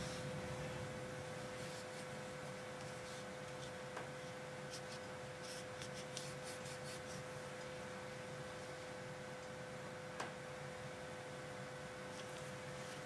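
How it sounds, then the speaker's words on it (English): A cleaning patch is wiped along the rails of a Sig Sauer 1911 Target pistol, making a faint, steady scratchy rubbing with a few soft ticks over a quiet background hum. "Let's just go ahead and wipe off the rails with a patch."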